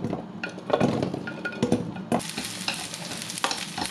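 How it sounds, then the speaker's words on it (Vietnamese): Shallots fry in a spoonful of oil in a pan, with a steady close sizzle broken by scraping stirs and light clinks of a utensil against the pan. "Mình chiên nhanh qua thôi rồi mình vớt ra."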